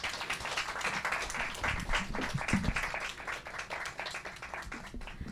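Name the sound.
audience applause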